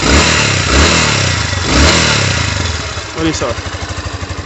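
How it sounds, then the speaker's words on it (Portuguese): A motorcycle engine running in good condition is revved loudly up close, with a rising roar easing back into a rapid, pulsing idle at the end while someone speaks briefly over it. "vou dar uma aceleradinha aqui"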